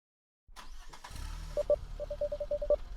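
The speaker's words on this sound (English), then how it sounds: "this is literally just an engine on repeat" A car engine in a video game cranks and starts, then settles into a looped running drone, with a string of short, even pulses repeating near the end.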